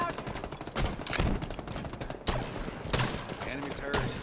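Frag grenade tossed and detonating in the shooter game Halo Infinite, a sharp blast amid dense gunfire and combat noise, with a voice calling out over the action.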